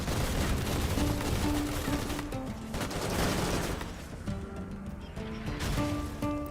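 Mortar blasts and gunfire in the colony-building game Rimworld form a dense, continuous barrage of rapid shots and booms, with bird-like calls and high tones popping through the clamor.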